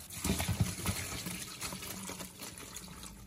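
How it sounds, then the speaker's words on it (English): Cooked pasta shells being drained with water through a strainer, a splashing gush of liquid that pours strongest at the start and then settles into a steady trickle. "my mom will drain the shells in a strainer"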